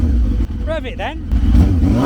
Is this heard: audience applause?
no